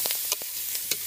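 Onions and meat frying in grease while being stirred, a steady, hissing sizzle broken by a few quick scraping strokes, close by.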